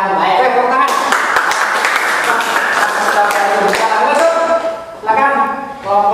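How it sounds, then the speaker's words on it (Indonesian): A classroom of junior high school students claps together during a counseling lesson game, producing a dense burst of applause lasting several seconds, mixed with overlapping voices and cheering. "Tepuk tangan."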